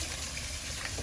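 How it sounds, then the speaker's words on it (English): Raw peanuts being rinsed under running tap water before boiling, a steady, even rush of flowing water with no talking. "So we're going to rinse them off good"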